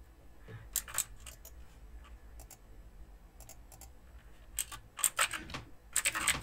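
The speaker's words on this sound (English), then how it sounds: "You guys might be able to hear my, my keyboard actually a lot." Computer keyboard typing picked up by a gaming microphone comes through as scattered bursts of sharp clicks, sparse at first and then denser and louder toward the end, over a quiet background.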